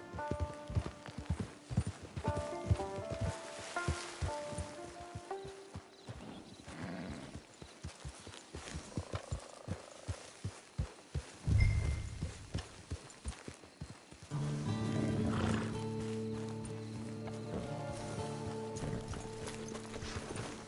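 Horse hooves clip-clopping at a walk in Red Dead Redemption Online, a steady run of close hoofbeats followed by a loud whinny, with game music and ambient sound underneath.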